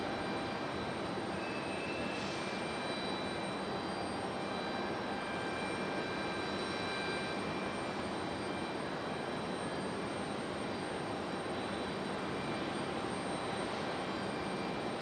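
A Breeze Airways airliner at Raleigh-Durham airport roars with a loud, steady jet engine noise that stays constant and broad throughout, heard alone without voices.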